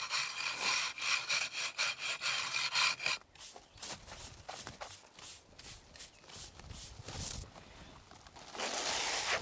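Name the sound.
sanding dried plaster filler on a plinth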